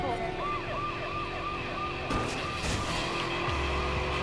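Ambulance siren wailing in a repeating up-and-down pattern in the Watch Dogs video game, heard at moderate distance over traffic noise, with a sudden screech and a burst of engine rumble partway through.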